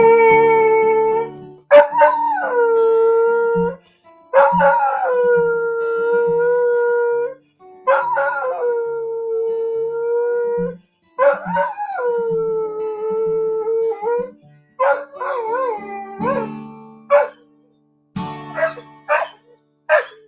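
A dog howls in a series of long, drawn-out, singing wails, about six separate sustained howls with pauses between them, loud and close, with shorter yips and broken howls toward the end.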